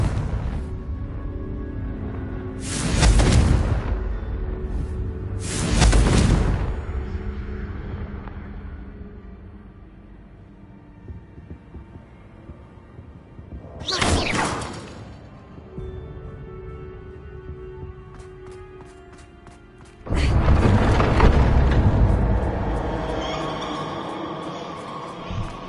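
Fire blast explosions from the Confringo spell in Hogwarts Legacy: two loud bursts close together, a third a few seconds later, then a long roaring blast near the end, with quieter rumbling and effects in between.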